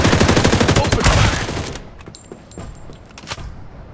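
Rapid automatic gunfire in the battle royale video game Farlight 84, a dense loud burst of shots for over a second, then scattered single shots and clicks trailing off.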